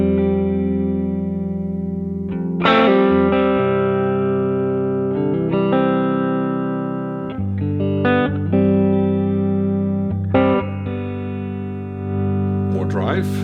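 Electric guitar played through an amp-in-a-box drive pedal into the effects loop return of a Boss Tube Amp Expander cab simulator, giving sustained distorted chords and notes that ring out one after another with reverb, loud and alone.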